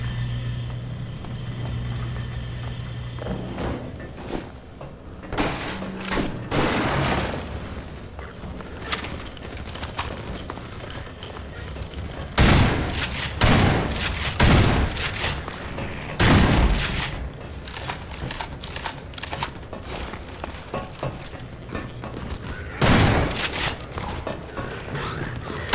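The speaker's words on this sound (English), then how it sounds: "the shotgun feels really strong in this" Shotgun blasts in Half-Life 2 with the MMod mod, several loud booming shots spread across the stretch amid in-game footsteps and scattered combat noise, with a few sharper reports standing out.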